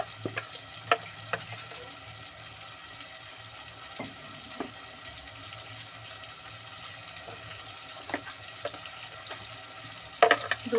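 Duck meat with red chili fries on low heat in a pan, giving a constant close sizzle and crackle while a spoon stirs with occasional scrapes and taps, and no one speaks.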